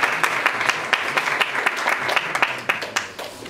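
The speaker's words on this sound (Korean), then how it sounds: "환영의 말씀을 해주신 데이비드 제프리 대표님께 다시 한번 큰 박수 부탁드립니다" An audience at the all-new Lincoln Nautilus media showcase gives steady applause, many hands clapping in dense, even bursts that thin out slightly toward the end.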